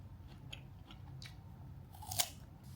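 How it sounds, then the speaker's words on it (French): Crisp bites and crunchy chewing of a firm Asian pear, several soft crunches followed by one louder snap near the end, close and quiet with no talking. "J'aime bien les poires quand elles sont croquantes comme ça."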